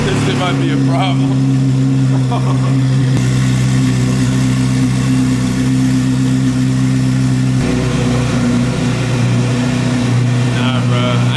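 A Chevrolet Corvette C8 Z06 fitted with a Yonristic exhaust idles after a cold start, a loud steady drone with a deep low hum that shifts slightly in pitch partway through, with brief talking over it at the start and end.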